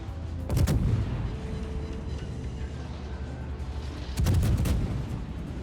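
Warship guns fire in a naval video game, the Soviet cruiser Smolensk, two heavy booming salvos a few seconds apart over a low rumbling engine background.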